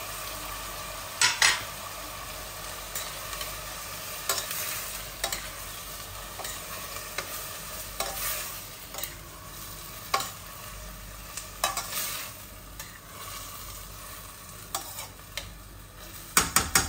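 Peeled tomatoes and onions cook in a pan with a steady low sizzle, punctuated by occasional sharp clinks and scrapes of a utensil stirring against the pan.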